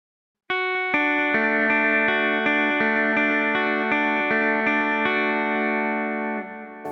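Electric guitar played through a Spark amp with an LA Comp compressor, a chord struck and then repeated strums ringing with even, sustained tone before fading near the end.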